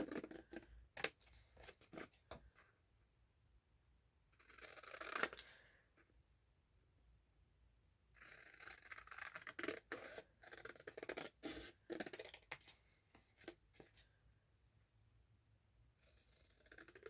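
Scissors cutting a flimsy paper journal tag, close crisp snipping in several bursts separated by quiet pauses, with rustling paper between cuts and no talking.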